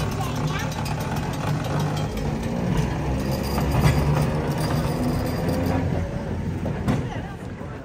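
A tram pulls away from its stop, with a low rumbling drone of the motor and wheels swelling slightly in the middle, as someone speaks over it.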